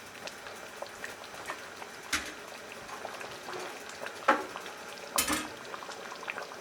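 Swiss chard and collard greens go into a simmering chickpea curry: soft bubbling throughout, broken by a few sharp utensil clinks and rustling bursts as the greens drop in and are stirred, close by.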